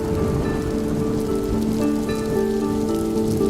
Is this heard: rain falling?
yes